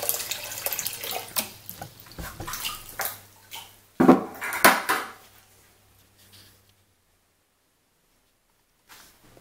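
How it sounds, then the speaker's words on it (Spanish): Water pours into a stainless steel beer fermenter being filled with five and a half gallons, a loud splashing rush with bursts and surges that cuts off abruptly, leaving near silence with a faint drip at the end. "lo que voy a hacer ahora es llenar el fermentador con 5 galones y medio de agua"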